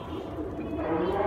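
Pigeons coo softly and steadily at close range in a loft, low throaty calls running through the whole short moment with a faint voice nearby.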